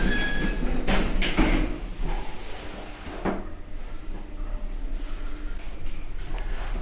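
An old Otis express lift travels through a shopping centre, a steady rumbling hum of the moving car with a few clunks and rattles early on, close and continuous.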